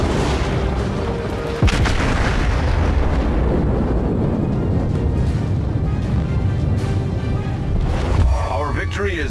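Warship gunfire in the naval combat game World of Warships, heavy booming shots and rumbling blasts over a constant roar of battle, with someone talking over it.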